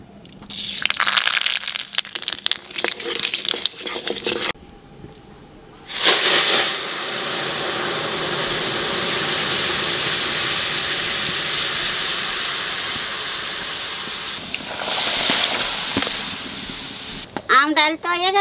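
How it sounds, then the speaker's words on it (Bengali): Mustard seeds dropped into hot oil for dal, a loud sustained sizzling hiss that rises abruptly and holds for several seconds, with shorter crackling bursts before and after and a voice talking at the start. "তেলের উপর দিয়ে দেবো কটা সর্ষে"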